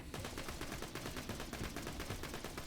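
Hip-fired gunfire at a wall in Borderlands 2 rattles out as a rapid, unbroken stream of loud shots at a steady rhythm, close and dense, with no voices.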